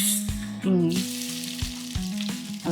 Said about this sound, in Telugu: ఆనియన్స్ వేద్దాం, లేకపోతే ఆయిల్ మాడిపోతుంది